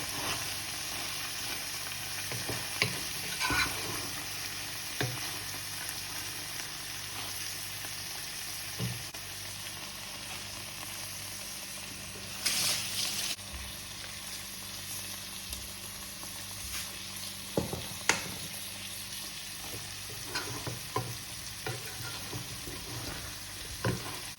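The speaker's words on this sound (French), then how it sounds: "j'ai retourné un petit peu le riz" Rice sizzling and frying in a pan on the stove for rice with ground-meat balls and tomato, stirred now and then with soft scraping knocks over a steady crackle, close and fairly quiet, no voices.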